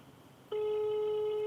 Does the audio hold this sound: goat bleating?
no